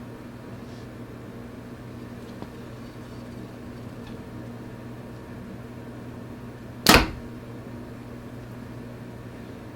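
A Mathews V3 compound bow, 70 pounds at 27-inch draw, fires a 460 grain arrow in one sharp, loud release crack against a steady indoor hum, with no talk.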